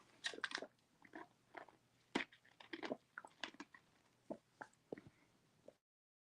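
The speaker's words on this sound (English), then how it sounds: "I'm about to chew some more ice." Ice gets chewed close to the mic, with a steady run of crisp crunches and bites about every half second, quiet and with no talking.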